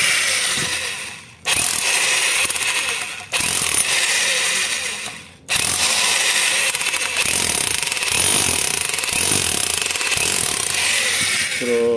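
A Nanwei mini jackhammer chipping gun hammers into concrete in loud, close, continuous rattling bursts, stopping briefly twice before running steadily again.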